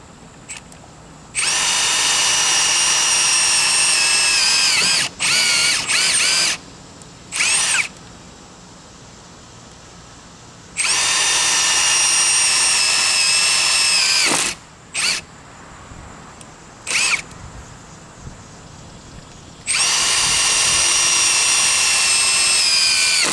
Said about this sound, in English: All right, so I'm going to go ahead and drill.